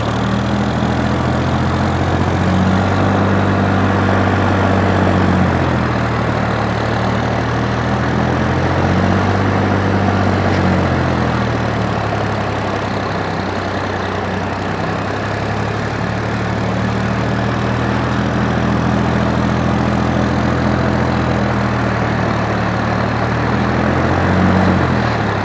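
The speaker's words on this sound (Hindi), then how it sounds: "क्या आपको विश्वास हो रहा है कि आइडियल आरपीएम पे ट्रैक्टर चल सकता है?" A Sonalika DI 55 tractor engine idles at around 600 rpm in a farm field, a loud, steady low chugging drone with slow rises and dips in pitch, close by and with no talking.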